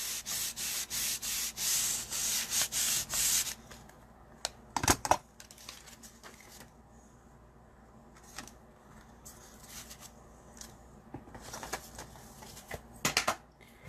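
Paper rubbed over a stamp with an embossing tool, a run of rapid rhythmic scraping strokes for a few seconds, then scattered taps and light handling noises that grow quieter.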